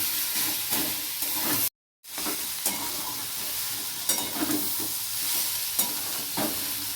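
Spices sauté in a pan for thor ghonto, a banana-stem curry, giving a continuous close sizzle with scraping stirs and occasional spatula clicks, briefly interrupted by a short silent gap.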